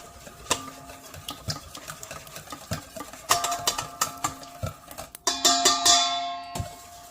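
Muffin batter for gluten-free apple streusel muffins being whisked in a bowl, a quick run of close, rhythmic clicking strokes that grows denser and louder toward the end.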